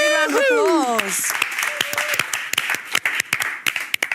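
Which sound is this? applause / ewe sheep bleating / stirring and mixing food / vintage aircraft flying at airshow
applause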